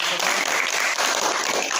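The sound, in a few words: applause from the audience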